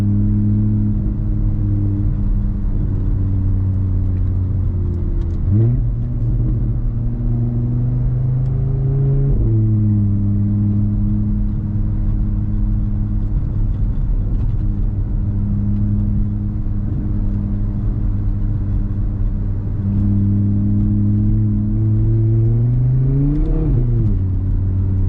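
A loud Audi RS3 engine drones steadily from inside the car on a snowy winter blizzard drive, its deep harmonic tone rising and falling as the revs swell and drop several times, with no talking.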